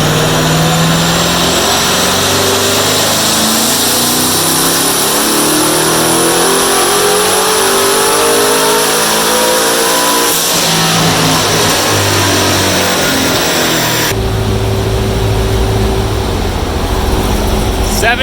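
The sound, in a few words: twin-turbo Chevrolet Corvette C7 engine revving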